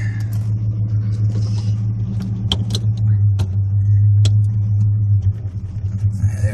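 A 1979 Chevy El Camino engine runs at a loud, steady, deep idle rumble close by, with a few light clicks and knocks over the top.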